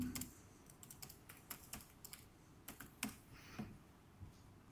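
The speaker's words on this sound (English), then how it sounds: "And I'll just do some fast typing" Fast typing on a laptop keyboard, a quick irregular run of light clicking keystrokes in bursts, close and quiet in an otherwise still room, with no talk.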